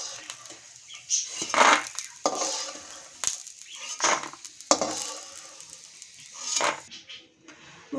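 Fried peanuts are scooped and scraped out of a hot pan in a village kitchen, a run of intermittent metallic scrapes and clatters with faint sizzling, close and moderately loud, no talking.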